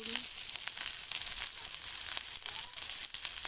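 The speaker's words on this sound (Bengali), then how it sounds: "এগুলোকে আমি ভালো করে ভেজে নেব" Onion, garlic and chili fry in hot oil with a steady, close sizzle and crackle that holds at an even level throughout, with faint stirring and no voices.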